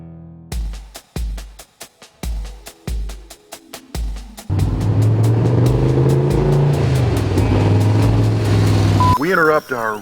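A 1964 Shelby Cobra 289, a British sports car with an American V8, cranks and fires in a series of loud stuttering bursts, then settles into a steady rumbling idle and ends with a sharp rev.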